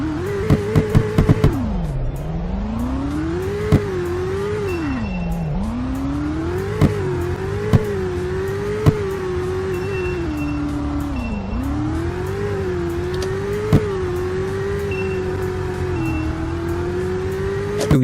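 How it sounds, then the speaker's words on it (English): A C6 Z06 Corvette engine in a Roblox driving game revs up and down repeatedly, loud and close, its pitch rising and falling in sweeps with a few sharp clicks between the revs. "a C6Z06 Corvette"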